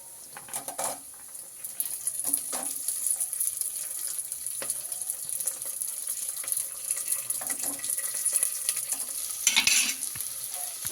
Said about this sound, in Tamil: நல்லா வதக்கிக்கலாம். இப்போ பூண்டு போட்டுக்கலாம்.